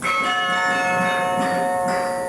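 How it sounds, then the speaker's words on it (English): Large, heavy carillon bells ring with long, sustained overlapping tones, several strikes blending into a rich continuous resonance. "They're big, heavy bells, and the low bells are wonderful."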